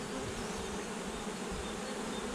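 Honey bees swarm in a steady, dense buzz at an open home hive in April, a continuous close drone without pauses or voices.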